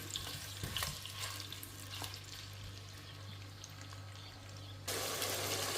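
Steady sizzling of meat frying in oil in a pan, close up, with faint stirring noises; the hiss grows louder near the end.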